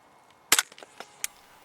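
A Nitro HV air rifle fires outdoors on a hillside, a single sharp crack followed by a few faint clicks and a brief second snap, otherwise quiet.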